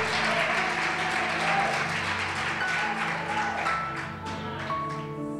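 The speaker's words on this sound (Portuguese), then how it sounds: "Vamos aplaudir bem forte o nome desse Deus." A church congregation claps along loudly during worship, the dense applause running steadily under tonal music and fading slightly toward the end.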